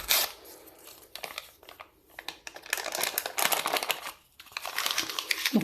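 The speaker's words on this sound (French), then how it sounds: "Je vais mettre le sachet de levure chimique." A paper sachet of baking powder crinkles and tears open, then its contents pour out while semolina batter is prepared for Moroccan baghrir; close, dry rustles come in bursts with short pauses between.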